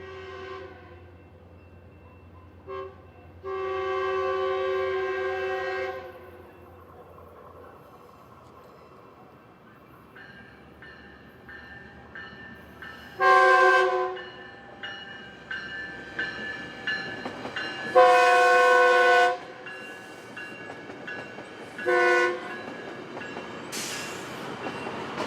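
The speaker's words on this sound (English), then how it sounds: "Later that day, the same train returned on its way back to Riverside." A Metrolink train passes in Perris, California, with several long horn blasts, low rumbling and clattering wheels, the horn calls spaced out and loud against the rolling noise.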